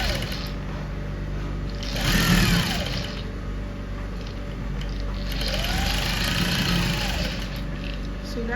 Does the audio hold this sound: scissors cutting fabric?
no